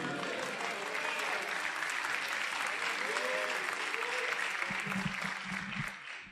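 Church congregation at a cathedral service claps in a loud, sustained burst of applause with faint cheers and voices mixed in, fading slightly at the very end.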